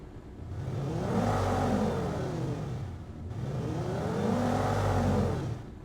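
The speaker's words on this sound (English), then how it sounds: "Let's hear it with the engine sound." A synthesized granular engine roar made in Krotos Igniter swells up, holds, and fades, then repeats in a second identical rise and fall, with a smooth, slightly artificial texture.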